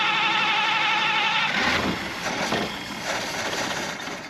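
A 1951 Buick Super engine, sitting for 25 years, cranks with a fast whirring churn, then catches and settles into a rough, fluttering run, loud and close.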